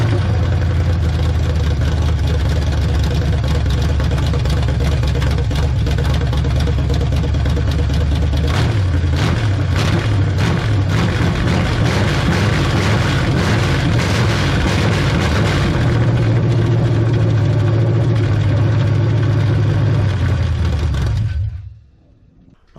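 A freshly rebuilt 1970 GMC truck engine runs steadily at close range, its loud idle shifting and rising in pitch midway before it shuts off near the end.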